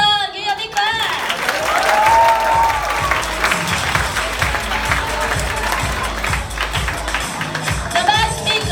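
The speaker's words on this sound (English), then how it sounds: "Give your big clap." An audience at a school interclass debate closing ceremony claps in sustained, even applause for the best speaker of a round, a dense crowd clatter that holds steady for several seconds with a few cheers mixed in.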